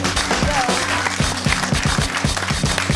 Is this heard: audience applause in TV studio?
yes